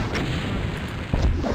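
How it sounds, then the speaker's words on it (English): Rocket launcher fires in Ultimate Doom, map E4M2 Perfect Hatred, a heavy booming blast with a low thump near the end over steady game ambience. "I should probably switch to my rocket launcher"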